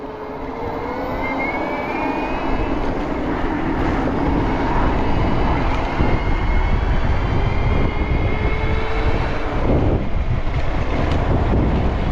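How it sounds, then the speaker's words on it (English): Strong wind buffets the microphone in a continuous loud roar with gusty low rumbling throughout, no voices. "It is unbelievably windy."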